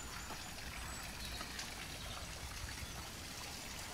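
Water falls over the Petrifying Well at Mother Shipton's Cave in England as a steady, faint, continuous trickle with no pause.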